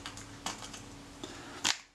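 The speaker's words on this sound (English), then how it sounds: "I'm going to close this camera up." A Retina IIC rangefinder camera is closed up by hand, giving a few light mechanical clicks and taps, then one sharper snap near the end before quiet.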